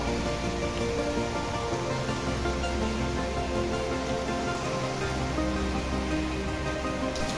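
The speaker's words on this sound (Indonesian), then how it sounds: "Ini kebetulan posisi barusan tiba-tiba turun hujan, air tuh sampai ke depan pintu." Heavy rain pours steadily outside a house, a dense, unbroken hiss of water striking surfaces that stays loud and even throughout, with no voices.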